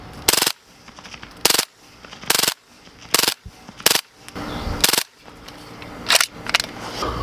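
A suppressed MP5-K firing 147 grain subsonic rounds lets off seven or eight short, sharp automatic bursts at close range, each a fast rattling clatter separated by brief pauses.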